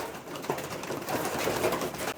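Racing pigeons coo in a loft, a soft, continuous murmur of low throaty calls with occasional fluttering and shuffling, moderately close and steady throughout.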